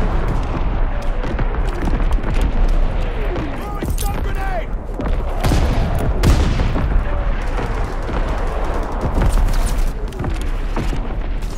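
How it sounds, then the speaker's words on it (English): Artillery barrage in Call of Duty WW2 team deathmatch, a continuous dense run of booms and blasts with scattered gunfire, loud throughout, with game voice lines over it. "Firing division artillery. Target position confirmed."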